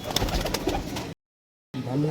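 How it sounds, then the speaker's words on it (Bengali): Punjabi Malbai pigeons from a breeding pair cooing close by, with a short low coo, a sudden gap of silence, then another coo. "অরিজিনাল যে মালবাহী পায়রা হয় কেমন হয় দেখতে সেটা দেখানোর জন্য দেখুন"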